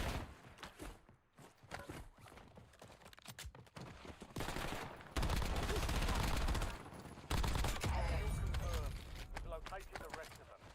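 Sustained bursts of rapid automatic gunfire in Warzone Resurgence come in dense, loud stretches, mixed with footsteps and game noise, and a voice talks over parts of it.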